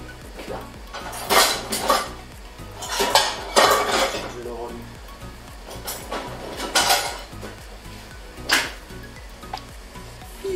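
Metal pots and pans clatter and bang as someone rummages through them, with bursts of clinking cookware scattered across the clip, fairly close and loud.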